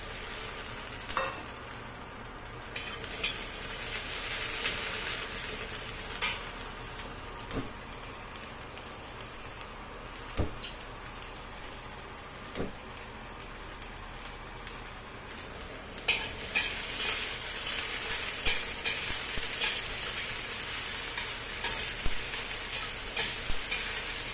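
Celery and chili stir-fry in a pan for bean curd, giving a continuous bright sizzle with scattered clicks and scrapes of stirring, louder in the later half, with no talk.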